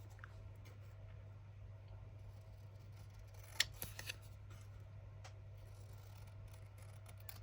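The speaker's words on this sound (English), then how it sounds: "I'm going to cut them out with the normal scissors first." A few quiet snips of scissors cutting paper, clustered together, over a steady low background hum.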